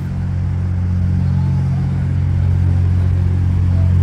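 A vehicle arrives on Isla Mujeres, Mexico, its engine a steady close low rumble that swells slightly as it draws near, with no talking.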